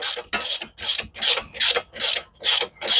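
A breaker bar ratchets steadily on a Toyota Highlander front strut bolt during a 2008 strut replacement, with loud, close, rhythmic clicking bursts repeating about every third of a second, alone with no talk.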